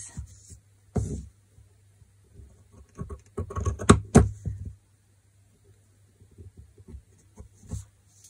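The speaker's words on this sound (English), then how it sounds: "I'll just use these scallop scissors to cut away this excess" Several crisp snipping and rustling sounds of scallop scissors cutting through fabric, clustered in quick bursts with pauses between, close and fairly quiet.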